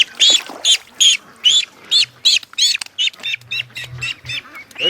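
A duck quacks loudly and repeatedly in a rapid rhythmic series of harsh calls, close by, with faint rustling underneath.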